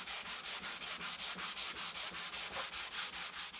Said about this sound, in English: I want to sand the inside faces